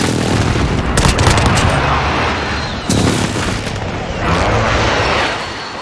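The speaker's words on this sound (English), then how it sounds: "Friendly precision airstrike inbound." Precision airstrike explosions in the video game Modern Warfare, with heavy booms and rumbling blasts mixed with scattered gunfire in a loud, dense battle din that swells and fades over several seconds.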